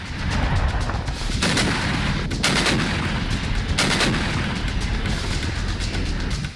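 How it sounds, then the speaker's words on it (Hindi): A Russian self-propelled howitzer firing in Luhansk makes a loud, sustained roar of blasts and rumbling with several sharper bursts layered in, continuous throughout with no voices. "ये तस्वीरें लुहांस्क की है, जहां रूसी सेना ने होवित्जर टैंक से जोरदार हमला किया।"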